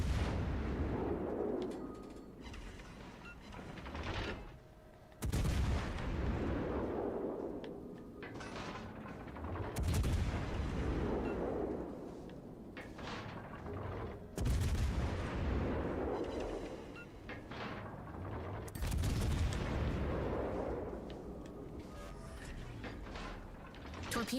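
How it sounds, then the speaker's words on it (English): Naval gunfire from warships in the game World of Warships Legends, with Rhode Island firing broadside at Wisconsin: four heavy booming salvos roughly every five seconds, each with a long rumbling decay, loud and close. "Rhode Island just went broadside to Wisconsin."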